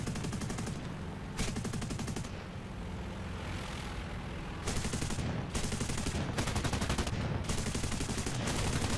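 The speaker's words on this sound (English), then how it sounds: "That's some volume of fire coming out of the front of this thing." An aircraft's propeller hub cannon fires in the War Thunder video game, with loud, rapid bursts of gunfire in repeated volleys over a steady engine drone and no talking.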